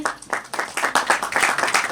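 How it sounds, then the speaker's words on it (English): An audience at a solar power plant commissioning ceremony claps, a series of distinct, fairly close claps building into a rhythmic burst of applause with no talking over it. "A round of applause, please."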